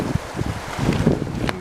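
Gusty wind buffets the microphone beside Loch Ness, a rough, rushing noise that swells and dips in short bursts.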